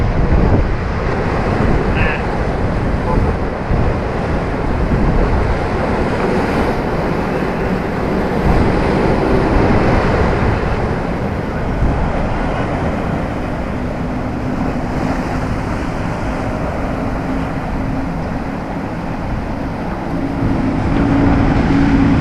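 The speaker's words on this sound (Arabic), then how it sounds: "عايز اسيبكم بس شويه كده مع صوت البحر والجو." Sea waves and wind on a rocky shore in Alexandria, a continuous loud rush of surf mixed with wind buffeting the microphone, steady throughout with no talking.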